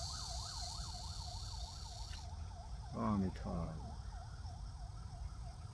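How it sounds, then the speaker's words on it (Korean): An ambulance siren wails in a rapid up-and-down sweep as it passes by outdoors, fairly loud then cutting off partway through, while someone talks and a short burst of other noise rises in the middle. "구급차갑니다."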